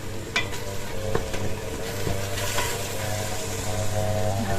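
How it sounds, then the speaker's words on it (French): Harira spices are stirred and sautéed in a pot, with a steady close sizzle and a few scraping stirs and clinks over the frying, and no talk. "Je mélange tout ça."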